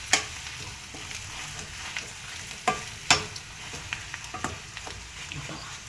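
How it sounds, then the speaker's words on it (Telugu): Chopped onions sizzling in tempering oil for an aloo kurma, a steady close fry broken by sharp scraping knocks of a spoon stirring the pan. "ఇట్లా తాలింపులో కలిసినట్టు కలుపుకోవాలి ఫ్రెండ్స్"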